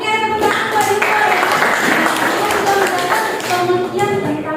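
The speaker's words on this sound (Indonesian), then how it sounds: "Oke, tepuk tangan buat Ibu ya." A classroom of students claps hands for their teacher during a lesson, a dense continuous patter of many hands held close and steady for several seconds, with voices mixed in.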